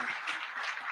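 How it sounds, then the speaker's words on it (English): Audience applause for a famous music director seated among the crowd at an interview event, a brief, steady patter of clapping heard close and alone. "please clap for him"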